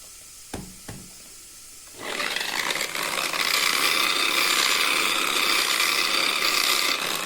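Abrasive scraping of 220-grit silicon carbide velcro sandpaper on stone: a couple of faint taps, then steady, loud continuous rubbing for the remaining five seconds, with no voices.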